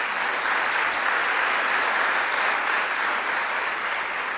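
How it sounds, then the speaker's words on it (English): Steady, loud audience applause fills a New York community college event with Governor Kathy Hochul, a dense wash of many hands clapping continuously with no break throughout. "Let's give him a round of applause as well."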